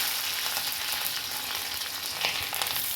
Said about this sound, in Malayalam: വെളിച്ചെണ്ണ ചൂടായിട്ടുണ്ട്. ഇനി ഇതിലേക്ക് കടുക് ഇട്ട് കൊടുക്കാം.